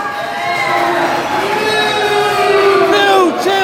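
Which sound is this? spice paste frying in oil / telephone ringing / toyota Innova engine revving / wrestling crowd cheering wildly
wrestling crowd cheering wildly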